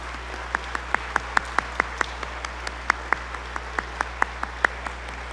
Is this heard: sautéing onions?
no